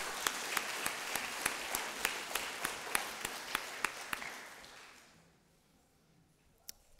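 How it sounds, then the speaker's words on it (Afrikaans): A church congregation applauds at a Sunday service after a wedding announcement, a dense, fairly faint patter of clapping with a few sharper single claps standing out, tapering off into quiet after about five seconds. "kom ons gee vir hulle 'n lekker groot hande klap"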